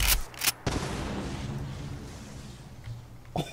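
X12 Plasmacaster weapon in the video game Fallout 4, with sharp firing cracks followed by a sustained rumbling blast that fades. A couple of further shots land near the end.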